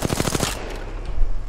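Automatic gunfire in the video game Apex Legends: a rapid burst of close, loud shots lasting about half a second, then fading into a quieter tail.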